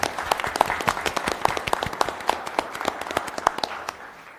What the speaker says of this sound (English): While she's coming up, let's give her a round of applause.